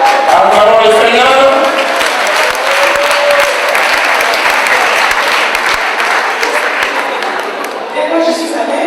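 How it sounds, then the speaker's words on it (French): A church congregation applauds during a worship testimony, a broad wash of clapping at fairly close range that holds steady and slowly thins toward the end, with voices rising within it. "Acclamons le Seigneur."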